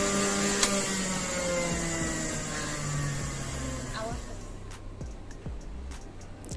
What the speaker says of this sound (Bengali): এটা আমার জুসার প্লাস ব্লেন্ডার।